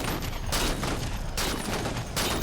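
Halo 4 sniper rifle shots striking a hardened shield, heard as a few loud, heavy blasts with long ringing tails over dense, continuous game noise.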